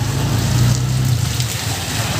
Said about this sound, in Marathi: आज पाऊस भरपूर आहे।